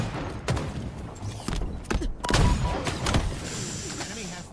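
Grenade explosions in a competitive Halo match, a string of heavy booms and thuds with bursts of gunfire crackling between them, while a commentator talks over the action.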